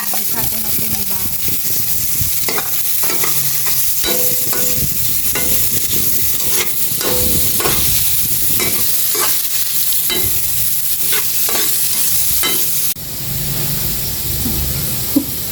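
Sliced bitter gourd (ampalaya) and garlic sizzle loudly in a pan, stirred with a utensil that scrapes and clacks in a steady rhythm right up close.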